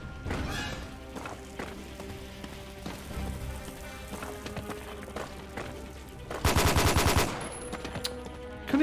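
Rapid automatic gunfire in 007 Quantum of Solace, a steady clatter of shots running under game ambience, with a louder, denser burst near the end.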